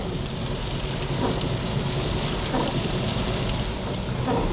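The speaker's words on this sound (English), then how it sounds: "But still raining." Steady rain hisses across the whole clip while driving near Perryville, Maryland, a dense wash of drops on a surface with a low rumble underneath and no voices.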